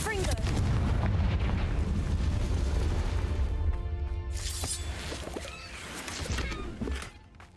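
A Confringo spell blast in Hogwarts Legacy gives a loud, rumbling explosive roar that fades over several seconds, followed by crackling magical bursts and debris near the end.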